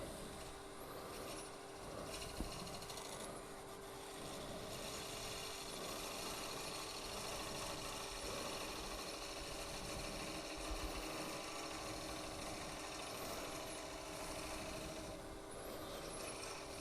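A wooden Christmas ornament with a 3/4 inch hole through its center is parted off on a wood lathe at a woodturners' club meeting, the motor and cutting forming a steady, loud, continuous hum with a faint whine.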